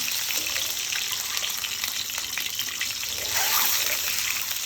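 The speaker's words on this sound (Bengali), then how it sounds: "আমরা এখন ডিমটাকে একটু হালকাভাবে ভেজে নিব" Eggs sizzle and spit in hot oil in a heated wok, a steady, close, crackling fry that swells louder near the end, with no voices.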